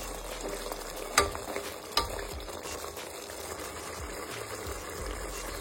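Paneer frying in a pan gives a soft, steady sizzle at low level, broken by a couple of brief clinks from stirring.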